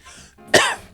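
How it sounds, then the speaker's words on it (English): A single sharp, close cough bursts out loudly and alone, preceded by a brief faint breathy sound. "Sympathy cough."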